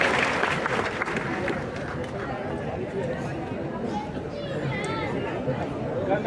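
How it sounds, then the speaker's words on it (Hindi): Audience in a Patna memorial hall at an Emperor Ashoka birth anniversary event applauds, a dense, steady patter of clapping mixed with chatter and voices that carries on throughout. "एक बार जोरदार तालियां"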